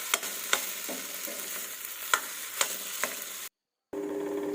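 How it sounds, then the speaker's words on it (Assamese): Potatoes tossed with chili powder in a frying pan, stirred with a utensil that scrapes and knocks on the pan over steady sizzling, with a few sharper clinks; a brief gap of silence near the end before the frying noise resumes. "এয়া ধুনীয়াকৈ মিক্স কৰি লৈছোঁ মই আকৌ"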